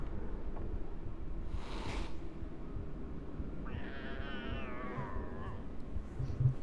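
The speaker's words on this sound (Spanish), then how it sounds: "Ese es el gato del tío" A cat meows once in the PSX game Harry Potter and the Philosopher's Stone, a single drawn-out wavering call over a constant windy, watery ambience, with a brief soft noise burst just before it.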